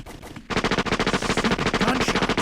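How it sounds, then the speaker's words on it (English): Gunshot sound effect standing in for a can opening during a brewing show: a rapid burst of loud, evenly spaced automatic gunfire starts after a brief quiet moment and continues steadily to the end. "Gunshots."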